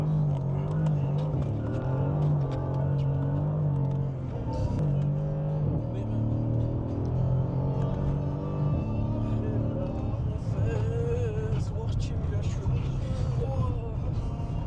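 A Mercedes CLS 63 runs with a deep, steady engine drone that rises and shifts as it is driven hard, while people talk over it inside the car.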